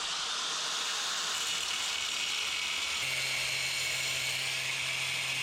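A steering rack tie rod being cut through at its center for an electric power steering rack on a 4x4 crosskart, giving a steady high-pitched grinding whine that continues throughout, close up and alone with no talk.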